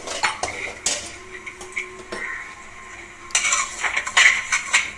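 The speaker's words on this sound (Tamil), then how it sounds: "கிளாஸில் இருக்கிற ரவையை போட்டுருங்க. போட்டு நல்லா கிளறி விடுங்க." Semolina roasts in a pan while a metal spoon stirs it, giving sharp clinks and scrapes against the pan in uneven bursts; the clattering grows busier toward the end.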